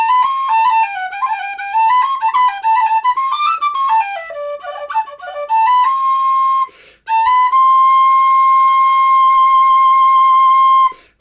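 A Weston pistachio wood D whistle plays a quick run of clear, pure notes that step up and down, then settles into a long, steady held tone after a brief gap, solo and close.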